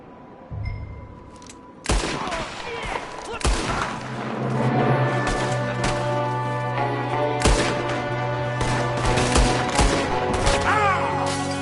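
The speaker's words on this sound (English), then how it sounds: "There's another one shooting from the window" Rapid gunfire erupts in a Red Dead Redemption 2 shootout, a shooter firing from a window, with repeated loud sharp shots and bursts over several seconds alongside ringing game sounds and occasional voices.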